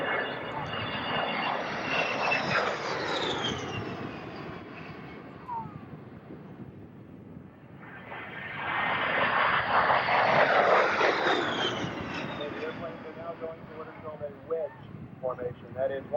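Military jets make two low approach passes over a runway at a 1991 air base show, a loud roar swelling and fading, then swelling again with wind rumble, as an announcer speaks over a loudspeaker.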